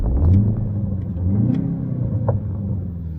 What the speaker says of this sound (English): I don't know if you guys can hear the burbles there.